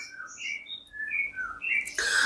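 Bright, varied oriental magpie-robin song with clear whistled phrases and quick chirps, rising and falling in pitch, close and fairly loud, ending with a burst of noise.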